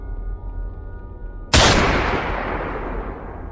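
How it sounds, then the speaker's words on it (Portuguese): A single loud, sharp gunshot rings out as a horror-story sound effect, its bright blast decaying into a long echoing tail over a low, droning background. "Ele atirou de novo e de novo."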